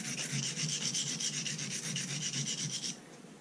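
Swiss Army knife blade stroked across a sharpening stone in steady rhythmic rubbing passes for about three seconds, close and clear, then stopping, with no talk.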